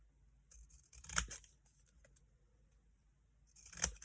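Two crisp snips of zigzag scissors cut through paper a few seconds apart, close and fairly quiet, over near-silence.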